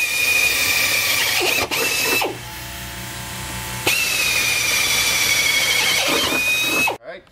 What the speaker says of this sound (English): And we have to drill out all 10 of these holes.